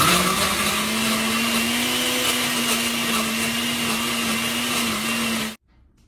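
A blender whirs continuously at high speed, blending aloe vera gel with no water added, loud and close with a steady motor whine before cutting off abruptly near the end.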